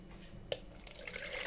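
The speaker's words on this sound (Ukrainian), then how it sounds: "наливаю води" Water poured while mixing a weak Maxim fungicide solution for repotting orchids gives a soft, steady trickle with a brief splash or clink near the start, heard alone at low volume.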